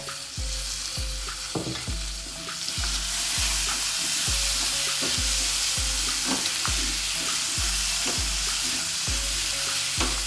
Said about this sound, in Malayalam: ഇനി ഇതിലോട്ട് ഒരു ഇടത്തരം തക്കാളി അരിഞ്ഞത് അത് ഇട്ട് കൊടുത്തേ.